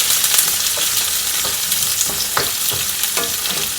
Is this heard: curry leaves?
yes